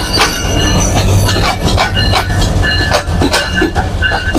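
Lalmoni Express train pulling into a platform at Natore railway station, a loud continuous rumble of rolling wagons with rhythmic wheel clatter and metallic squeals, no talk.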